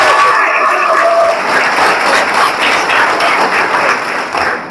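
An audience applauds at a talk, a dense sustained burst of clapping that fills the whole span and fades slightly toward the end.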